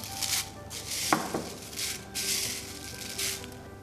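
Completely dried rose petals, left four to five days to dry for homemade soap, rustle and crackle dryly as they are handled, with brief crisp rattling bursts and one sharper crunch, close and fairly quiet.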